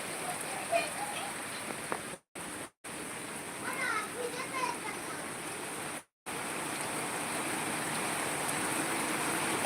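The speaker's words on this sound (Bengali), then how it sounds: "এত মুসলধারে বৃষ্টি বাবা পুরো ধোয়া ধোয়া হয়ে যাচ্ছে" Torrential rain pours down in a continuous hiss during flooding, with children's voices faintly audible in the background and a few brief dropouts.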